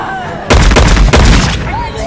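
Gunfire in the 2013 horror film Hatchet III, a heavy booming blast with rough, crackling echoes lasting about a second, loud and close, followed by a sharp second burst.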